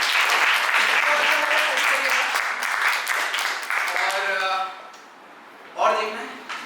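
Audience at an improv comedy show in Mumbai clapping and cheering, dense applause that tapers off, followed by a short burst of cheering and laughter near the end, with voices calling out.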